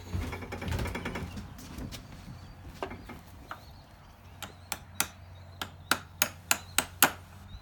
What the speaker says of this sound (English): Or we can take a hammer and adjust it properly.